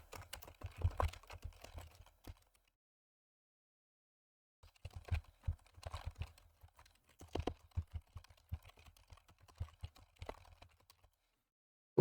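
Bursts of quick keystrokes on a computer keyboard as code is typed, two clusters of clicking separated by a short pause, close and fairly quiet with no talking.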